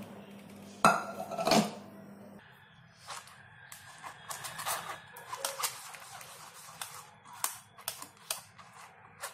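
Date pudding mixture strained in a pan, a loud clatter and clink of metal early on, then scattered light taps, scrapes and clinks of utensil against the pan.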